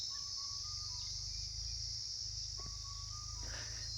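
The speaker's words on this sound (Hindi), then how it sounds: "ये पक्षी की आवाज़ है। और ऐसा लग रहा है जैसे कोई आदमी सीटी बजा रहा है।" A bird calls in the jungle with a clear, whistle-like note, sounding much like a person whistling. Two steady tones rise above a constant insect drone and low rumble.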